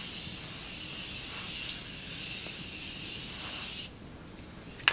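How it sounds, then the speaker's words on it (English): A face mist is sprayed in one continuous hissing burst lasting several seconds, close up and alone, then cuts off into quiet. "It's a nice mist."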